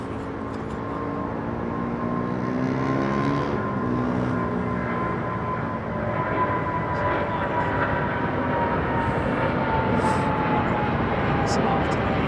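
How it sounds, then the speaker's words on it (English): A United jet airliner on an afternoon runway lineup, its steady engine roar and droning hum continuous and moderately loud throughout, with faint speech underneath. "It's an afternoon United jet."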